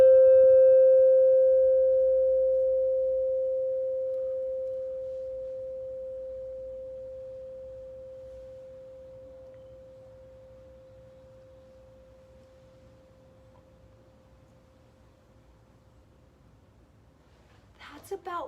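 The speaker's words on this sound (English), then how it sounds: "what's really cool about the bells is that even after we hit it, we can hear the sound go for a long time" A struck bell rings out alone as a single sustained pitch. It fades slowly over about seventeen seconds above faint room noise, ending with a brief clatter.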